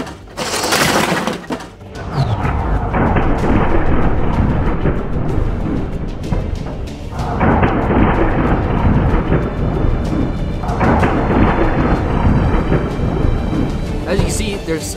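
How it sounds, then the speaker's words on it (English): A LEGO train crashes after derailing on its track, with a sharp clatter of breaking plastic followed by long, loud stretches of rumbling and rattling crash noise. "It did crash."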